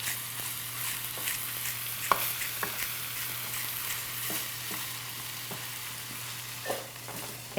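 Sausage frying in a pan, a steady bright sizzle running throughout with occasional soft pops and a few light scrapes or taps of a utensil, close and unaccompanied by talk.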